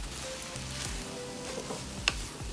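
Eggs frying in a wok with glass noodles and minced pork for Thai pad woon sen, a steady soft sizzle with stirring scrapes and one sharp clack, no voices.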